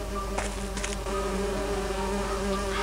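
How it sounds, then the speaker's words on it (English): Bees buzz steadily in the video game And Then There Were None, a close, continuous insect drone with a few brief louder swells, no voices. "I need to subdue the bees first."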